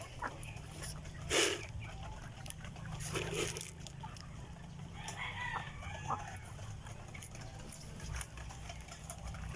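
Rhode Island and Plymouth hens clucking on a small farm, with scattered calls and a louder squawk, fairly distant under steady background noise.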